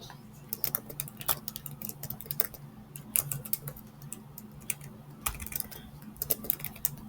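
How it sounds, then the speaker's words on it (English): A website address being typed on a computer keyboard: a quick, irregular run of light key clicks and taps, close and fairly quiet, lasting several seconds with no speech. "you're going to go ahead and type in your website"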